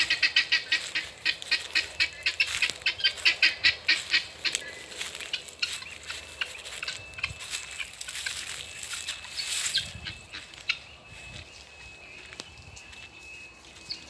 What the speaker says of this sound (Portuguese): Tem muita galinha de Angola.